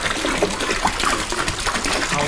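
Wine punch being poured for a drink, a steady close gushing and splashing of liquid much like running water, continuous for a couple of seconds.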